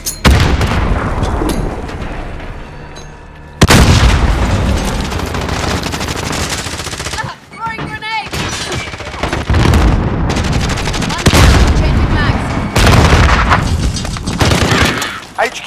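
Call of Duty Modern Warfare 2019 firefight, with heavy bursts of automatic gunfire and booming grenade explosions rolling almost continuously, loud and close, plus a short quieter gap near the middle.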